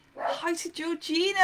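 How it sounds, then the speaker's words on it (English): Young puppy yipping and whining in short, rising vocal bursts close by, overlapping with a person talking. "So if you hear some barking in the background"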